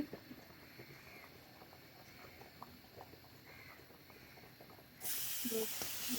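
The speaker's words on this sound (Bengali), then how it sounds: "সরিষার তেল দিয়ে দিচ্ছি বেশি তেল দিতে হবে না" Mustard oil hits a hot pan while cooking beef trotter curry. After a few quiet seconds of faint background, a sudden loud sizzle bursts in and keeps hissing strongly to the end.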